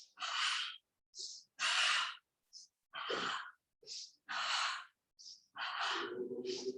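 Paired breath sounds from yoga breathing, double inhales and double exhales during a gentle twisting posture, come in short bursts separated by brief pauses, with a voice briefly audible near the end.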